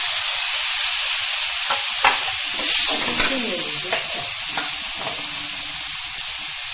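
Tomatoes and tamarind sizzling with softened onions in a pan for a spicy Salem thattuvadai set, a steady close frying hiss broken by a few scraping stirs.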